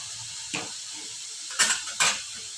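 Finely shredded cabbage is stirred in a pan for paneer momo filling, with a few scraping, clattering strokes of a spoon against the metal over a faint background hiss.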